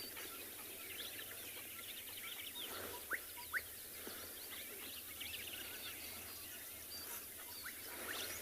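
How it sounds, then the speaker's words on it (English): Gorgeous bushshrike calls on a morning safari in South Africa, faint scattered chirps and whistles over a steady hiss of bush ambience, with two slightly louder call notes in the middle. "gorgeous bush shrikes actually getting a little bit closer"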